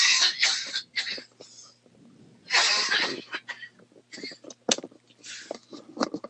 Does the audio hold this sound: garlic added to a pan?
no